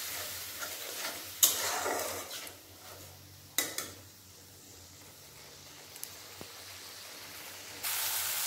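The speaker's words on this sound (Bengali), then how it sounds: "এরপর আমি মশলা ভালোভাবে কষিয়ে নেব।" Ground cumin, coriander, turmeric and chilli powder frying in a pan with tomato and ginger, a soft sizzle with intermittent spatula scrapes and clinks, louder bursts early on and then quieter, without speech.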